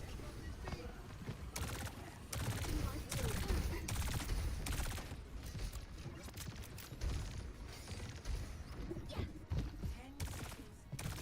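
Burst-fire SMG in Overwatch 2, rapid clusters of sharp gunshots mixed with mechanical clicks and game effects, with speech over them.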